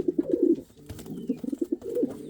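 Pigeons coo in a series of soft, throaty pulses at a pigeon breeding loft, the rolling calls repeating close by at moderate volume with brief pauses between phrases.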